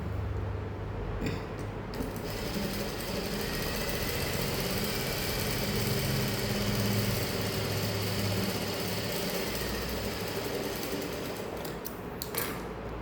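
A sewing machine runs steadily, stitching along a saree blouse piece: a continuous mechanical whirr with fine rapid needle rhythm, moderately close, with a few clicks near the start and end and no talking.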